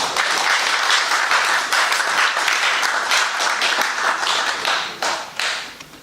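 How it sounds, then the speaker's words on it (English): Applause from a lecture audience welcoming a professor at a history talk: steady, dense clapping from many hands that holds for several seconds and then tapers off near the end. "let's welcome Professor Ru with a big round of applause"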